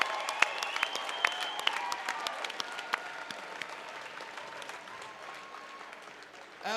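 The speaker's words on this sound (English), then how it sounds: "one more round of applause for a fantastic fight" A crowd applauds after three rounds of welterweight action at a Chosen Few Fighting Championships MMA event, with dense clapping and some sharp individual claps that slowly thin and fade.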